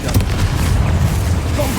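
A Confringo blasting spell in Hogwarts Legacy sets off a heavy, booming explosion with a rumbling low-end burst that fills the short moment, close and loud.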